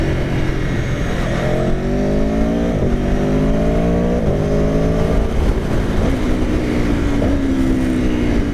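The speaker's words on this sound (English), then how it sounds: "there's no sweeter sound than that blipper going as you're approaching bends and stuff" A 2017 Aprilia Tuono/RSV4 motorcycle engine revs hard and climbs through the gears, with sharp auto-blipper throttle blips on downshifts punctuating the rising and falling pitch, loud and close throughout.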